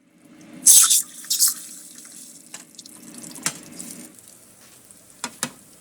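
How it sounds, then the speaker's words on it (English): Hot excess grease is poured from a pan into a cup after cooking steak, giving two short, sharp hissing sizzles followed by a few faint clinks and drips. "I'm going to pour our excess grease back into my cup here."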